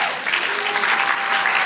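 A church congregation at a Spanish-language sermon claps for the Lord, a loud, continuous wash of applause filling the whole moment without pause.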